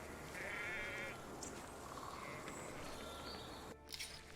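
A sheep bleats once in a video game, The Pillars of the Earth, clear and fairly close, over a steady low ambient hum, followed by a few soft rustling sounds.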